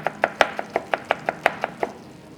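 A knife slices a red onion very thinly on a board, about a dozen crisp, evenly spaced cuts in quick steady rhythm, close and clear with no talking.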